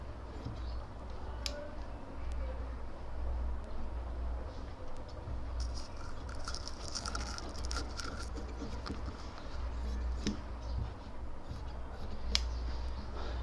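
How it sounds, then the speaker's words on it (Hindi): Scissors cut through shirt cloth at a tailor's bench while a collar is trimmed, giving a steady soft rustle with scattered sharp snips over a low constant hum. "नीचे की तरफ काट लेंगे, कपड़े को अलग करेंगे।"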